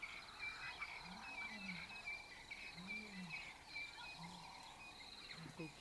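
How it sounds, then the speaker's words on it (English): Distant lion roaring in the wild during a sighting of a pride with four-month-old cubs, a few low, drawn-out calls repeating at intervals beneath a steady chorus of insects and birds. "Can you hear Daddy roaring there?"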